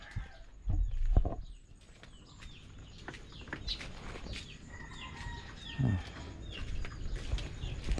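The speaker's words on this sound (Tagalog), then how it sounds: "Ito na lang yung ating manok." Chickens cluck softly and intermittently nearby, a few short calls scattered among quiet farmyard background sounds.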